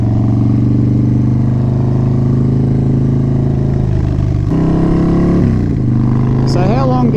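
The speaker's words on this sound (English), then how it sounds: "we'll do a bit of tyre warming." A Harley-Davidson Wide Glide FXDWG motorcycle with a 200 rear tyre runs loud and close as its rear tyre is warmed. The steady, throbbing idle rises into revs near the end.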